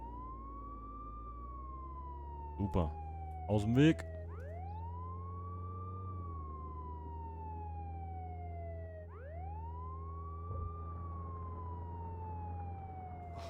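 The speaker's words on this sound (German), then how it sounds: "Sirene an" Police car siren in the Contraband Police video game, a wailing tone sweeping up and down repeatedly over a steady engine drone, with someone speaking briefly and a few short clunks partway through.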